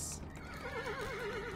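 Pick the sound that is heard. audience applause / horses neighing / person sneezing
horses neighing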